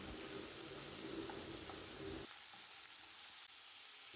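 Tomato chutney ingredients sautéing in a pan make a soft, steady frying hiss that cuts off abruptly about halfway through, leaving a quieter low background.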